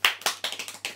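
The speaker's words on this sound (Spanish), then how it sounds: "Sabía que ibas a aplaudir." Several quick hand claps, about six in one second, close and crisp in a quiet room, each sharp snap decaying briefly before the next.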